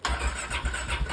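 A Polaris Sportsman 570 ATV with an exhaust leak cranks over and catches, its loud, raw engine note pulsing in uneven surges close by.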